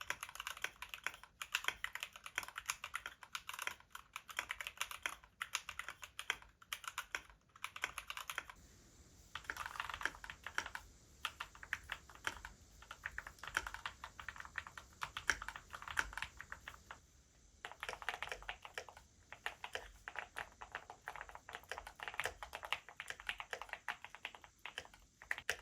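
Fast typing on a custom-built mechanical keyboard, crisp clacky keystrokes in steady bursts with short pauses, close and clear with no talking.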